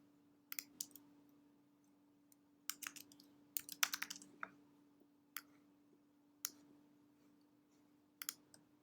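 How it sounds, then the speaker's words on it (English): Computer keyboard typing text into a Canva design: sparse, quiet key clicks in short irregular bursts over a faint steady hum, near and alone. "You just type whatever you want on there."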